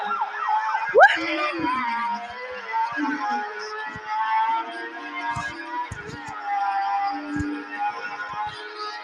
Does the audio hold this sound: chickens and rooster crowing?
no